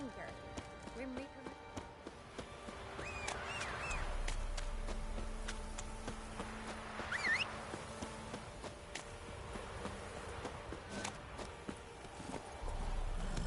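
Hooves of the horse Roach drum in a steady galloping clip-clop in The Witcher 3, with game music and ambient effects behind, while a voice speaks over the ride.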